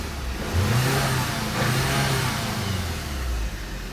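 A 2012 Volkswagen GLI engine, after an ignition coil replacement, runs steadily nearby with a low, even hum and a couple of gentle rises in pitch, no talking.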